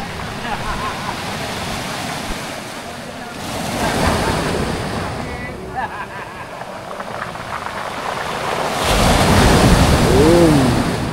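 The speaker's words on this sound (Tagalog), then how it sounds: "We're at the beach and there's a storm." Storm surf at a beach in Lobo, Batangas: loud, continuous roar of crashing sea waves mixed with heavy wind buffeting the microphone, swelling louder toward the end, with no speech.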